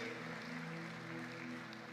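An audience at the Bharatiya Chhatra Sansad student parliament event applauds steadily, a continuous clatter of many hands in a large hall, with a faint tonal hum underneath.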